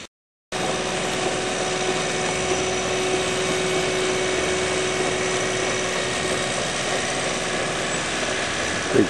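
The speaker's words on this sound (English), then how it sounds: "Now here's a machine that's pretty interesting. It's cutting the grass in the water." A steady mechanical drone of an aquatic weed harvester cutting lake grass outdoors, running continuously, even and unbroken, with a faint whine riding on top.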